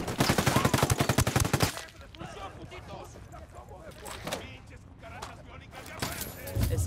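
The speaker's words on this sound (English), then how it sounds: "I'm opening fire on these shitheads." Automatic gunfire bursts in Ghost Recon Wildlands, a loud rapid rattle of shots in the opening two seconds, then scattered distant shots and a noisy firefight backdrop, with a voice talking over it.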